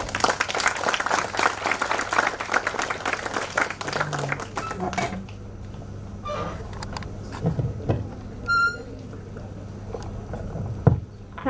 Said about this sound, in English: A big round of applause for Sanchit, guys.